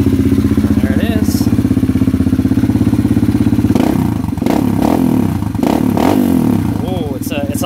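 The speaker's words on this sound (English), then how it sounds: "Oh, it's a lot bassier now. Sounds very similar to the stock exhaust, but it's more bassier." A Kawasaki KLX140 dirt bike fitted with a Pro Circuit T4 exhaust idles with a loud, close, steady bassy chug, then blips and revs in several sharp bursts, with clattering mechanical noise.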